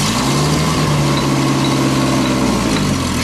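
A Wuling Hongguang van, left unstarted for weeks, idling with a loud, steady low engine drone and a smooth rumble that holds evenly throughout, close by with no voices.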